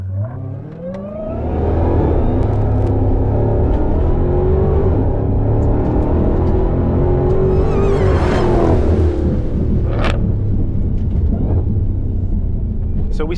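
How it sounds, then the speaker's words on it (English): A Dodge Hellcat Challenger in red-key 717-horsepower mode launches into an eighth-mile run, its engine roaring loud and close as revs climb steadily for over ten seconds, with a brief gear-change break near the end. "let's unlock all 717 horsepower with the red key and compare the eighth mile time with the red key versus the black key"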